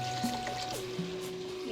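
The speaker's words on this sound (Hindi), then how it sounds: "और इसमें मैं पानी डाल दूंगी हाफ कप।" Half a cup of water pours into a pot of aloo matar pulao as a soft, faint trickle, with a rising tone as the pot fills and no talking.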